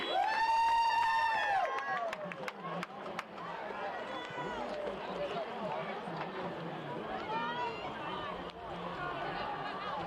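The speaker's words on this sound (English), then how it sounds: "We have an active crowd here at Michigan State University." Spectators in the stands cheer and roar steadily at a Michigan high school Division 3 state final soccer match at Michigan State University, a dense crowd noise with whistle-like tones near the start and an announcer speaking over it.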